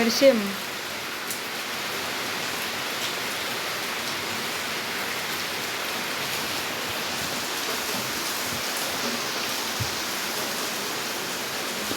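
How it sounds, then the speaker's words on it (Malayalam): Heavy rain falling steadily, a dense, even hiss of downpour that fills the whole stretch without letting up, fairly loud and close. "ഗായ്സ്, ഭയങ്കര മഴയാണ്."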